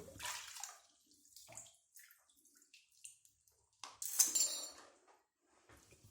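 Water trickling and draining through a tube being cleaned of a jam, faint splashes and drips in uneven spurts with a brief louder gush near the end, all fairly quiet and close.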